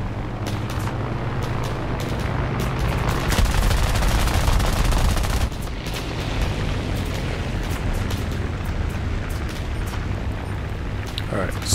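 Machine gun fire aimed at a P-26A-34 M2 plane in War Thunder air arcade, dense rapid rattling bursts over a steady roaring engine drone, with a heavier surge midway before the chatter continues.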